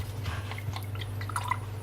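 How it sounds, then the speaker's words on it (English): A paintbrush is rinsed in a water pot, giving soft scattered drips and light sloshing taps over a low steady background hum. "So we'll just wash this brush out"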